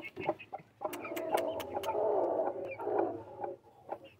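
A hen clucks repeatedly inside a cage, irregular clucks rising and falling over a steady low hum, fairly close with clattering taps from the enclosure.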